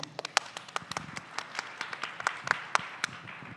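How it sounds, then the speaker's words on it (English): Audience clapping for a panelist at a Southeast Asia summit session, a brief, loose patter of claps with uneven rhythm, moderately close and fading quickly. "So a round of applause for Lee, please."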